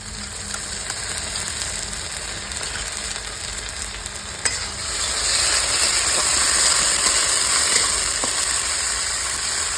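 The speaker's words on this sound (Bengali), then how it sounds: "গোটা জিরে কেটে রাখা পেঁয়াজ দিয়ে দেবো পেঁয়াজটা লাল লাল হবে পেস্ট দিয়ে দেবো" Chopped onions, whole cumin, dried red chillies and a spice paste fry in a hot pan, producing a loud, steady sizzle that thickens midway as stirring continues, close up with no talking.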